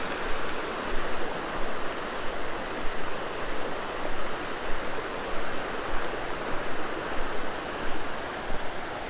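Water in Six Mile Creek, near a dam and reservoir, rushes steadily and close by, a dense, even roar with no pauses and no voices for the whole stretch.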